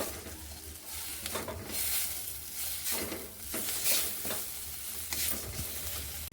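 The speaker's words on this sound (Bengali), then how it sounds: "একটু জিরের গুঁড়ো, আর দেবো একটু ধনের গুঁড়ো, দিয়ে মশলাগুলো একটু মিশিয়ে নেব।" Ground cumin and coriander are stirred into spices frying in oil, giving a continuous moderate sizzle with rhythmic scraping of a spatula against the pan and no speech.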